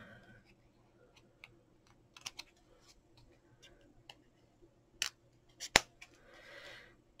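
Scissors trim paper for a punch art teddy bear gift box: a few small, crisp snips spaced irregularly, close and fairly quiet over a soft steady hum.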